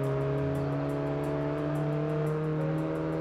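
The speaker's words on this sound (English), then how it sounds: "Lotus Exige getting that head start very well" Lotus Exige race car engine droning in Test Drive Unlimited, a loud sustained mid-pitched tone holding steady, with a faint rhythmic ticking on top and no talk.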